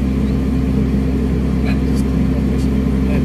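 A steady, loud engine drone from an XCMG XE135B excavator holds constant RPM with no drop while idling, running unbroken throughout with a deep low hum and occasional faint clicks on top.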